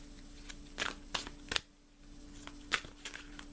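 Angel oracle cards being shuffled by hand: soft papery riffles and sharp snaps come in uneven bursts over a steady low hum, close but quiet, with no talking.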